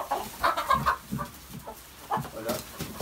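Chickens cluck in a breeding flock that includes a young white hen and a rooster, giving close, irregular bursts of clucks and short calls with brief pauses between them.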